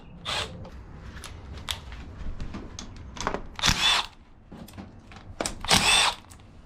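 Impact tool bursts on the bolts of a Suzuki DRZ supermoto bracket: a few short, loud whirring rattles spaced irregularly, the longest near the end, over a quiet garage background.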